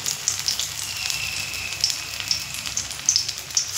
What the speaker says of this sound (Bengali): ঠিক উল্টো দিকটা আমি এই তেলের মধ্যে দিয়ে দেব। এখানে আমি দুখানা করে ভেজে নেব।